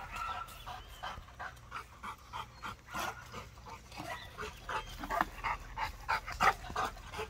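Dogs bark in a rapid, repeated series of short yaps, growing louder and more frantic toward the end.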